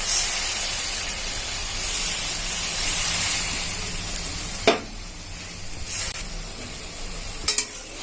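Mustard-seed water is poured into a hot pan of oil for a Bengali mourola fish curry, giving a loud continuous sizzle and hiss that fades midway, followed by a few brief clinks, with no talking.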